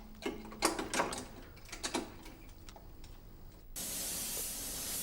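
Spray gun laying Auto Air base coat sealer in light dust coats at 40 PSI, a steady close hiss that starts abruptly near the end and holds, after scattered ticking and handling clicks.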